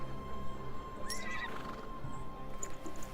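In a video game, a horse mount gives a clear neigh, a rising then falling whinny, with soft hoof clip-clops and quiet game ambience underneath.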